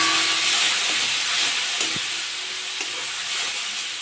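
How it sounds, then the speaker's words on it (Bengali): Spice masala with chopped tomato, turmeric and salt sizzles and hisses in hot oil in a pan after a splash of water, a steady close frying crackle with occasional stirring scrapes. "মশলাটা কষে নেবো, আমি একটু জল দিয়ে দেবো।"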